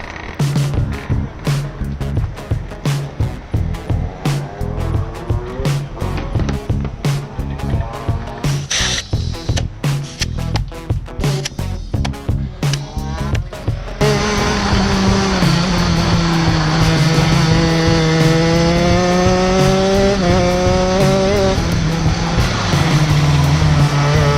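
A go-kart on a track: an engine buzzing with rapid revving pulses and shifting pitch, then a steadier, louder drone with rising and falling whine in the second half, close and without talk.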